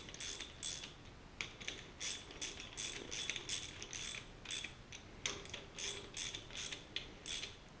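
A hand ratchet snugging down bolts on a 1966 Ford Galaxie 500 engine during assembly, with rapid bursts of close, crisp clicking that repeat in short runs with brief pauses between them.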